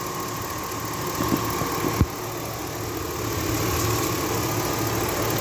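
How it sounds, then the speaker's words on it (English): A 2007 Chevy Silverado with the 5.3 engine idling, a steady mid-range drone with light rapid ticking from the fuel injectors, close and continuous, with one brief louder knock partway through. "What you hear is the fuel injectors."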